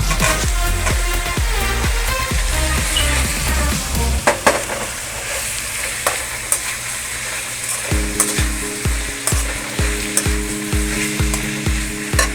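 Tomatoes go into a pan for a village-style South Indian crab masala, frying with a steady loud sizzle while a spoon stirs and scrapes in a quick repeated rhythm, close and with no talk.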